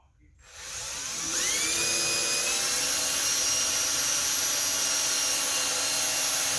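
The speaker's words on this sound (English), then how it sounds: "So put your drill on drill, put it on number 2." Power drill set to speed 2 with a sharpened bit spins up and bores into an acrylic plastic panel for a Cessna 140, a rising whine that settles into a steady high-pitched cutting drone, close and continuous.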